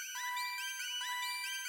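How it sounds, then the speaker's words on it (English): A dark, uneasy synth arpeggio: quick repeating bright, glassy notes stepping in a rising pattern over a steady high tone, quiet and alone, lasting under two seconds. "So then the next and final sound that we have here is this little ARP,"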